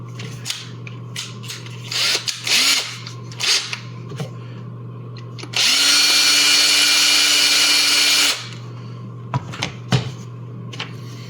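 A power drill spins for about three seconds, a loud close whine as a drill bit is backed out, set among clicks, knocks and handling noises over a constant low electrical hum.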